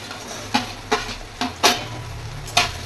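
Potato and aubergine stirred in a cooking pan, a utensil scraping and knocking against the pan in about five separate, fairly faint strokes spread across a quiet background.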